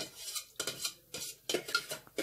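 Soaked rice is poured into a pot of milk for rice pudding: wet pouring and clinking sounds against the pot in several short bursts, close by, with a spoon scraping the rim.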